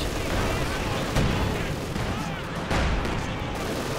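A Katyusha rocket barrage lands in Company of Heroes 2, heard as a dense, continuous roll of distant blasts and crackling impacts with a couple of sharper hits standing out in the wash of battle noise.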